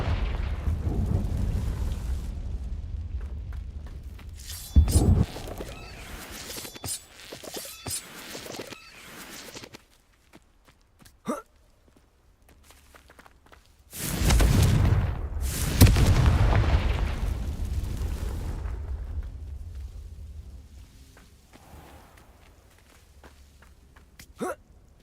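Confringo curse explosions in Hogwarts Legacy: two loud booming blasts several seconds apart, each with a heavy low-end thud and a rumbling tail, separated by quieter stretches of scattered small impacts.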